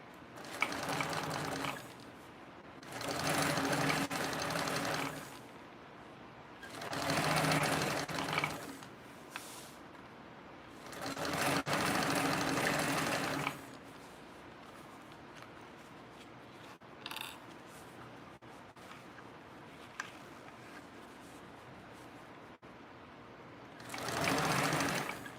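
Domestic sewing machine top stitching a seam at a long stitch length, four steady bursts of rapid whirring, each several seconds long, separated by quiet pauses, close and clear.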